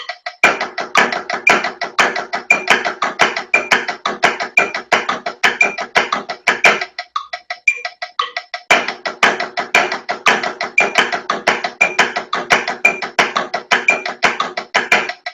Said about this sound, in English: we're going to put very short buzz presses on each of those partials.